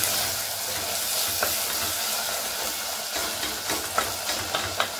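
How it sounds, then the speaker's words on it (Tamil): Tomatoes sautéing with ginger garlic paste in a pan for a mixed vegetable white kurma give a steady close frying sizzle, with scraping stirs toward the end. "இப்போ இந்த தக்காளி இது எல்லாமே நல்லா சேர்ந்து வதங்கணும்."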